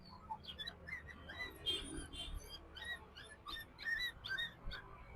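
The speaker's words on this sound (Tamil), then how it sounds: "எங்க நாய் கத்திரிக்குது" A household dog barks and whimpers in short, scattered yelps outdoors, fairly near, with bird chirps mixed in and no talk.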